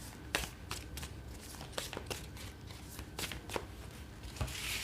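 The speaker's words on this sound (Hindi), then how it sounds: "मैं पहले कार्ड्स निकाल लेती हूँ फिर आपकी रीडिंग करती हूँ।" Tarot cards are shuffled and drawn by hand, a quick run of crisp riffling snaps and soft slides close to the listener, irregular and light, without any talking.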